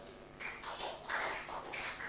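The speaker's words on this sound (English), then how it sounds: "Oh, your clapping is horrible." A group of people clap out the letter H in a clapping code, with several short bursts of hand claps in uneven clusters, moderately loud and fairly close.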